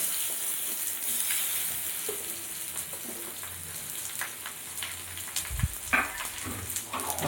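Colocasia leaf rolls (rikvach) frying in hot oil give off a steady, moderate sizzle with soft crackles, and a few louder pops and a clunk near the end as pieces settle into the pan.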